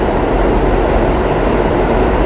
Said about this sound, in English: It's okay. There'll be another train too.